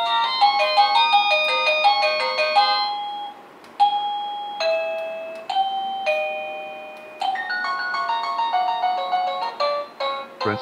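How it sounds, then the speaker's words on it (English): A healthcare calling system receiver (Retekess TH001–TH003) plays a bright electronic chime ringtone, a series of melodic bell-like notes repeating in phrases, clear and close with no talking. "Find the ringtone you want. Press and hold the bottom button and the ringtone appears."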